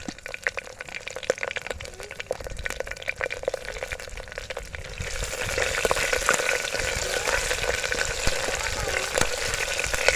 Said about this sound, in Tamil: பச்சை மிளகாய் போடுவோம்